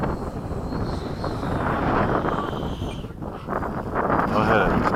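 A Freewing 80mm F-5 electric ducted-fan RC jet comes in to land at an airfield, a broad rushing roar with wind buffeting on the microphone, swelling and easing, while people talk nearby.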